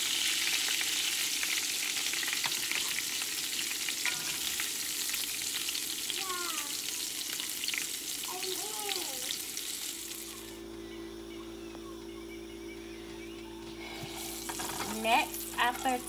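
Venison Salisbury steak patties fry in olive oil in a cast iron skillet, giving a loud, steady, close sizzle that drops to a quieter crackle over a low hum partway through.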